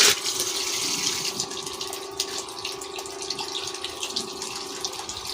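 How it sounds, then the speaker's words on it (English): Dirty water pours steadily from a siphon hose, a continuous, fairly soft splashing stream with small drips and gurgles, heard close up. "the level of this water now that is coming out from here"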